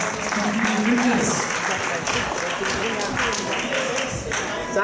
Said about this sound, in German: Auch hier nochmal Applaus für unsere Mannschaft.